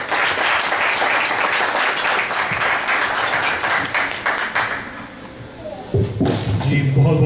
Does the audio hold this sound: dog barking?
no